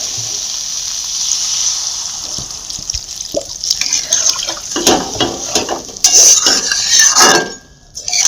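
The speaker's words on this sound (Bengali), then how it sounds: "আমি এবার এটা হালকা করে নাড়া দিয়ে জল দিয়ে দিচ্ছি।" Curry with potato and egg fritters is stirred in a pot and water is poured in, giving clattering utensil scrapes followed by a close, splashing pour near the end.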